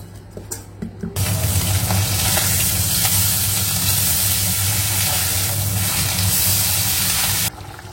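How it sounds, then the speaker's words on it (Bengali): Puti fish curry broth with potato, onion, garlic, green chilli and tomato bubbles steadily in a pan as fried puti fish go in, a loud continuous boiling hiss and sizzle from start to end with no talk. "এদিকে ঝোলটা ফুটে গেছে, ভেজে রাখা মাছগুলো দিয়ে দিই।"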